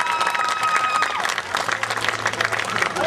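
An audience at an evening hypnosis stage show breaks into loud, dense applause, a close roar of many hands with some crowd noise mixed in and a faint tone fading early.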